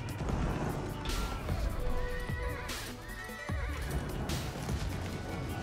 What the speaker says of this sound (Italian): La città poteva ora schierare dei propri soldati a cavallo.